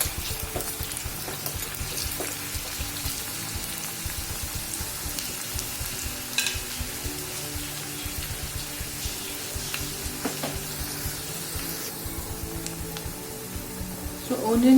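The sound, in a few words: onion and garlic sautéing in a pan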